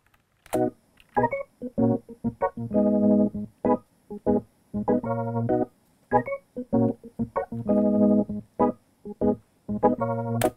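A church-style music loop layers piano, choir and organ, with sustained chords pulsing in short repeated phrases that start and stop in a steady rhythm, loud and close, with no voices speaking.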